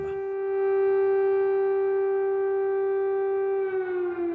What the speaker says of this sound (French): la capitale ukrainienne se réveille au son des sirènes d'alarme